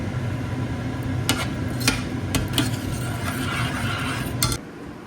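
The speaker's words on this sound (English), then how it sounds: "Turn the heat down low at this point and just continuously stir it." Kidney bean curry stirred continuously in a pan over low heat, with a steady soft scraping and bubbling bed punctuated by a few sharper utensil clinks against the pan, close and without talk.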